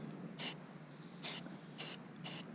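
Four short hissing bursts of spray paint from a can, brief and evenly spaced, fairly close against a quiet background, while painting a 1992 WaveRunner WR500.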